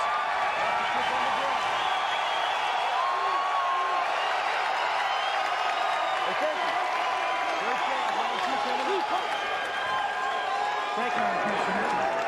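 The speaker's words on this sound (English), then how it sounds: "This crowd is loving it." Arena crowd at a UFC championship fight between Frank Shamrock and Tito Ortiz roaring after the end of round one, a loud sustained cheer with whoops and applause running the whole length under commentary.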